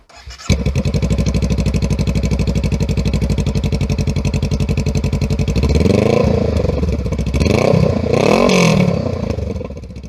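A Honda Rebel motorcycle fitted with a short stubby exhaust starts up and idles with a rapid, loud, throbbing putter, then revs several times in rising and falling swells before settling back.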